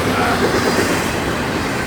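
A Florida East Coast freight train rolls past close by, a steady loud broadband rumble of wheels on rail with faint clatter, continuous throughout with no voices.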